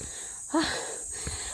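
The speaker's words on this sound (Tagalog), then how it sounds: "Grabe hingal." A single heavy, wheezing gasp for breath from someone walking in extreme heat, close and brief, surrounded by faint outdoor background noise.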